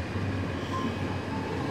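A freight train rumbles past in a motion comic sound effect, a steady low mechanical roar with faint rail hiss, continuous and fairly distant.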